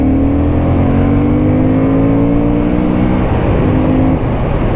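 A 2024 Honda Hornet 750 motorcycle accelerates hard, its engine loud and close with a rising whine through the revs.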